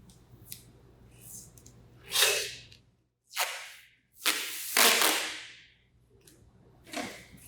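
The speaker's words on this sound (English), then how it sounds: "now I'm going to take some of my tape." Adhesive tape is pulled off the roll in several loud, close, rasping strips of varying length, separated by short pauses and an occasional small click during shadow-puppet building.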